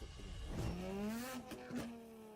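Tuned Porsche 992 GT3 RS with a very loud exhaust revs hard in a short, close burst. The engine note climbs sharply, holds a high wail, then blips again, with no one talking.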